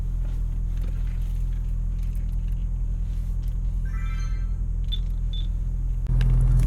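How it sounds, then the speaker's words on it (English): A 2018 Audi S4 Prestige with S-sport package idling in sport dynamic mode gives a steady, deep low rumble. A couple of faint beeps sound near the end, and the hum swells slightly louder at the close. "Now you'll hear the idle here. You hear that idle? That's sport dynamic."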